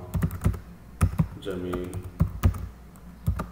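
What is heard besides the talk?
typing on a computer keyboard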